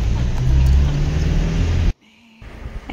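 A car travelling along a road toward Arunachal on a summer trip: steady low engine and road rumble from inside the vehicle, loud and continuous, then cut off abruptly into near silence, with a quieter low hum returning at the end.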